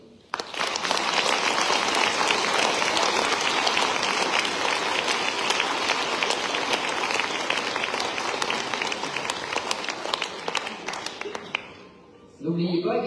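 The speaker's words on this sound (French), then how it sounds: "et je vais vous demander de les applaudir." Sustained applause from the audience at a mayor's New Year address in Rillieux-la-Pape, dense even clapping that fills the hall for about eleven seconds before stopping abruptly, followed by a voice.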